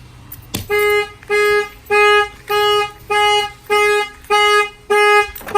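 The alarm system of a Winnebago Travato camper van on a Ram ProMaster blares in loud, evenly spaced electronic pulses, about seven in a row, each a sustained bright tone with short gaps between.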